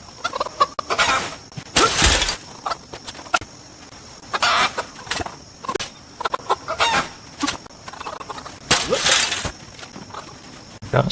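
Chickens in a pen in a farming video game give scattered clucks and squawks, with several louder bursts and quieter chatter in between, close and irregular over about eleven seconds.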